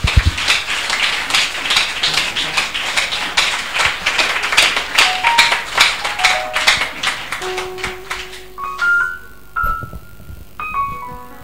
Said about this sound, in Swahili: Tumchangie makofi anapokuja.